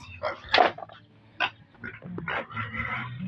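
A pig makes several close, rough grunts and snorts in irregular bursts, with some squeaky noises mixed in.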